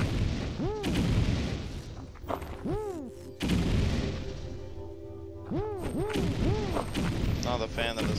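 Repeated heavy booms and blasts from a video game, loud and close, arriving in dense clusters with falling whistling tones between them, while a person talks over the action.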